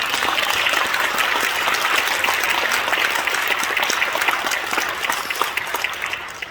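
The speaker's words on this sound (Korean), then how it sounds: "우리 안양역 총회장님 박수 한 번 부탁드립니다" A church congregation applauds an 85-year-old assembly president at a service honoring retiring elders and ordaining deacons; dense, steady clapping fills the space throughout, tapering slightly toward the end.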